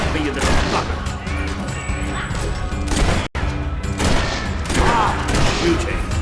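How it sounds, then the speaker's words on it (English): Gunfire in the Fable 3 video game, with loud crashing shots and impacts amid combat noise, a brief silent gap midway, and voices talking over the action. "Ah, shooting."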